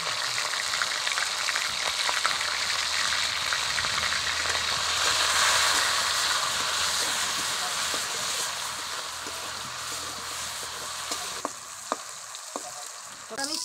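Prawns dusted with turmeric sizzle and spit steadily in hot oil in a pan, a continuous broadband frying hiss that swells slightly midway, with a few sharp pops near the end.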